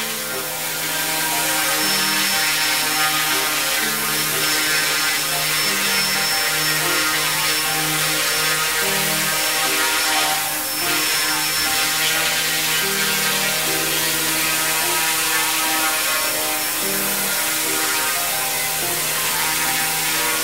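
A small EACHINE E120S radio-controlled helicopter flies indoors in a living room, its rotor and motor giving a steady, loud whine with rising and falling tones that persist throughout.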